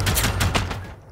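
A robot in Generation Zero fires its gun in a fast burst of sharp, loud shots that repeat rhythmically for about a second before cutting off.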